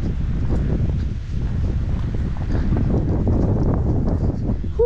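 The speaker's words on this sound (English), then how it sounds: "this wind is crazy. Not as bad as yesterday. Still pretty windy." Steady wind roars and buffets the microphone throughout, a dense low rumble with gusty swells and no voices.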